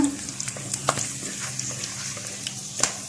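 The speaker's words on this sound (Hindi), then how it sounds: "ये जो साबुत मसाले हैं सारे ये डालूंगी। बस इनको हल्का सा" Whole spices frying in lightly heated oil in a pan for Hyderabadi chicken dum biryani, a soft steady sizzle with a few small crackles and stirring clinks, close and fairly quiet.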